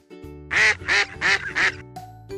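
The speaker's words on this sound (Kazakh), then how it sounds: "Үйрек." A duck quacks four times in a steady, loud series, each call clear and close, with a quiet pause at the end.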